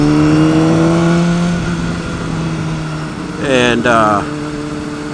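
Motorcycle being ridden to work after sitting unused for about a week, a steady close engine drone with a rising rev near the end, and someone talking over it.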